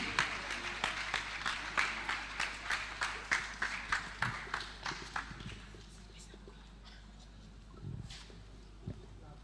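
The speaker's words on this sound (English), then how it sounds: "Can we please give her a round of applause?" An audience at a talk on preventing sexual violence on Nigerian university campuses claps in a steady, evenly spaced rhythm. The clapping fades after about five seconds, leaving a quiet room with a few stray sounds.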